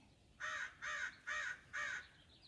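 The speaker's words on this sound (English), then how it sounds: "That's the crow." A crow cawing four times in an even, spaced rhythm, each harsh call clear but somewhat distant over quiet outdoor background noise.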